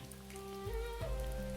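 Steady rain falls in a calm outdoor scene with trees, a soft continuous patter beneath a sustained low hum and tonal drone, quiet and even.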